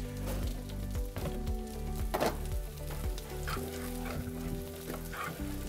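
Chicken sautés in a pan for cilantro lime chicken, giving a constant crackling sizzle with occasional stirring scrapes over a low steady hum, near and loud, with no voices.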